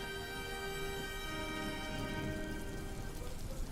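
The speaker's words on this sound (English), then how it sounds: "it's raining right now" Steady rain pattering on a surface in Brussels, continuous and fairly close, with a constant hiss and no voices.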